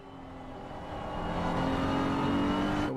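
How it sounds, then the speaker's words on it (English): A BMW race car engine in a racing video game at Laguna Seca at night, a steady buzzing engine drone that rises in pitch and loudness as it accelerates, heard alone without talk. "So we have a completely other engine noise now from the BMW."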